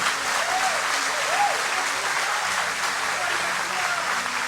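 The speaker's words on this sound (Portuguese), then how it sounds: "Se esse aplauso é para ele, irmão, aplauda de verdade." Church congregation applauding during an evening service, a full, even wash of clapping that holds steady throughout, with faint voices calling out briefly beneath it.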